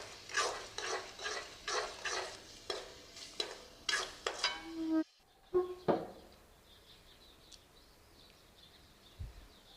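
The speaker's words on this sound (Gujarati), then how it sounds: "1 ચમચી હળદર લઈશું, 1 ચમચી મીઠું લઈશું અને બધાને સારી રીતે મિક્સ કરી દઈશું" Soybean masala being stirred with turmeric and salt in a pan, heard as a quick run of rhythmic scraping spoon strokes over a soft sizzle, then a pause and a few scattered clinks as the frying quiets.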